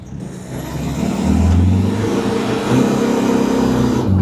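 A diesel car engine revs up, its low rumble swelling and holding loud and close, with a deep throaty tone rising then settling.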